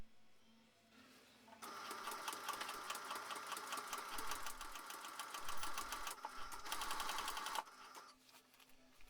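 A sewing machine stitching tote bag fabric with a rapid, even mechanical chatter that runs steadily for several seconds, starting and stopping cleanly against a quiet background.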